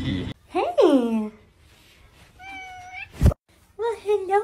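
A grumpy cat lets out several meows, a long drawn, falling yowl near the start followed by shorter wavering cries, close and clear with a sharp thump between and brief gaps of quiet.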